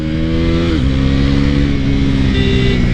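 A fast, aggressive motorcycle on its first ride, engine roaring loud and steady with a pitch drop as it shifts gear, then holding a strong drone close by.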